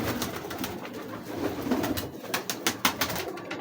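Teddy breeder pigeons in a Lahore loft give soft, repeated cooing close by, a few short throaty calls over a background of rustling and faint clicks.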